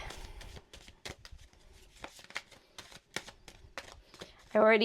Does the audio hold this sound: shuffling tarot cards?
yes